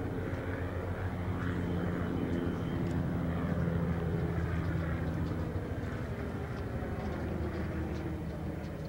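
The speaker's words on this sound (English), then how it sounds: "So the chopper upstairs" Helicopter hovering above an outdoor tennis match at the 1995 Indian Wells final, a steady droning engine and rotor rumble with a faint pulsing beat, continuous and fairly loud with no clear talk.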